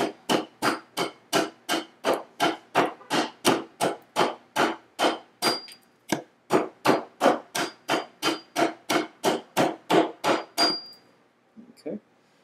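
A hand tool taps lightly and steadily on the edge of a wooden charcuterie cutting board to bevel it. Roughly two dozen close, crisp strikes come in an even rhythm, with a short pause midway and a faint scrape at the end.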